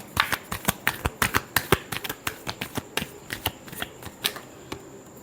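A deck of tarot cards is shuffled by hand, giving a quick, crisp run of close, distinct flicks and snaps in an uneven rhythm, with no talking.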